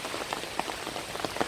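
Rain patters on a surface during a morning walk, a steady close hiss broken by small scattered drops and taps, with no voices.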